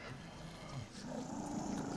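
A dog growls low and rough while running in the game Inside, a continuous rumbling snarl over muffled movement noise, quiet and fairly close.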